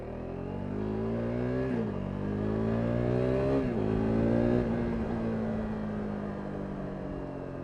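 A KTM RC 390 motorcycle with a new aftermarket exhaust drones as the engine climbs through gears, with a shift-like dip around two seconds and another near three and a half, steady and fairly close with no talk.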